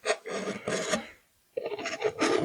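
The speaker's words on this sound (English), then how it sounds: "I'm gonna try and scrape what I can of this epoxy off" Epoxy being scraped off a stand, a rough rasping scrape in two bursts with a short quiet gap between, close and fairly loud.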